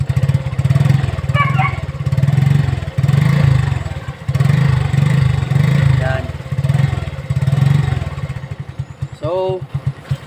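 A Suzuki Smash motorcycle with a repaired tail light revs close by in repeated loud bursts that rise and drop back toward idle between throttle blips, and someone speaks briefly near the end.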